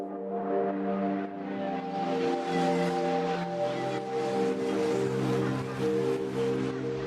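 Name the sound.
cinematic synth pad from field recording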